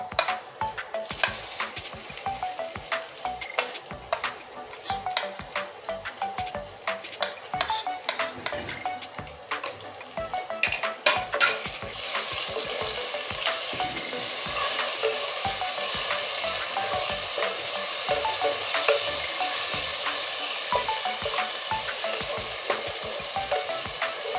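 Garlic, onion, cumin paste and chili paste fry in a pan, sizzling continuously with scraping stirs; the sizzle swells louder and denser partway through and holds steady.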